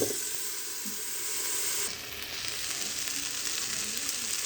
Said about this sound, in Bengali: ভেজে নেবো হালকা আঁচে তিন মিনিট ঢেকে দেবো